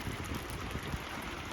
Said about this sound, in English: But it's raining, so